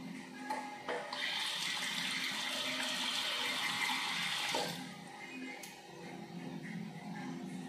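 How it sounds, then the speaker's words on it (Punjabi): Water tap running indoors during a home haircut, a steady hissing gush that fills most of the clip, then eases off and gives way to softer trickling and dripping. "ਮੈਂ ਵਾਰ ਵਾਰ ਪਾਣੀ ਚਲਾ ਰਿਹਾ"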